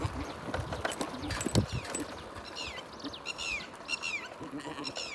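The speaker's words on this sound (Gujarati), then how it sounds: "યો બકરી આવેલી આવે ને હળી હા પ્રેમ છે ભાઈ." A goat bleats several times in quick succession, fairly faint and a little distant, with soft shuffling and outdoor background noise around the calls.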